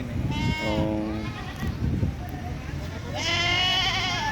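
Several local goats bleat loudly at a livestock market in Puthia, Rajshahi, Bangladesh, overlapping calls near and farther off, with busy crowd chatter and voices underneath.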